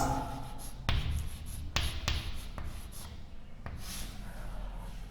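Handwriting of the number 49 during a counting lesson in Hindi, English and Roman numerals: soft scratchy strokes broken by a few sharp taps, close and steady, with no talking over it.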